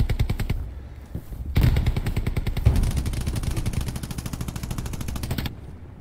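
Sustained automatic gunfire in the WWII shooter game Hell Let Loose, rapid rhythmic bursts of machine-gun fire with heavier shots mixed in, loud and continuous for several seconds.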